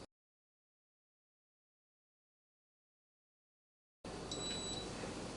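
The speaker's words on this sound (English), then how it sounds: "So it does beep at the end of the preheat." A Cuisinart Chef's convection toaster oven sounds a short electronic beep at the end of its preheat, a thin tone heard once against a steady, quiet background hum.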